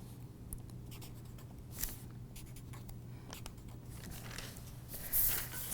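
Pencil or pen scratching across a paper sewing pattern in short strokes, quiet and close, with a faint steady hum underneath.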